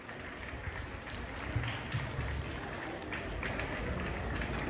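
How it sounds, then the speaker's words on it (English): An audience at a children's day event claps steadily, a dense wash of many hands that holds at an even level throughout with a few louder individual claps. "A big hand clap for Mrs."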